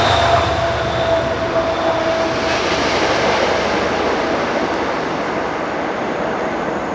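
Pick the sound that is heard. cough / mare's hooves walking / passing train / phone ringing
passing train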